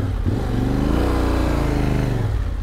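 A Yamaha Tenere 700 motorcycle ridden through mud, its engine droning loud and steady with rising and falling revs, close and continuous with no talk.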